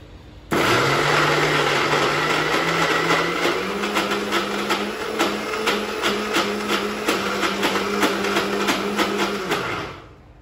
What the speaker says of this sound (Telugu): గ్రైండర్ లేదనమాట, మిక్సీ ఉంది, అందుకే మనకి ఇంత టైం పడుతుంది.